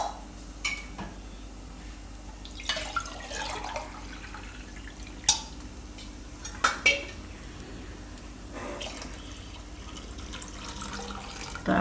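Water pours into a pot of toor dal for dal palak sambar in a home kitchen. The pouring is low and steady, with scattered clinks of a vessel and utensils knocking nearby.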